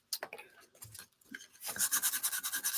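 Sandpaper is rubbed over a craft piece to soften it, giving close, rhythmic scratchy strokes that start sparse and become a quicker, steady back-and-forth rasp.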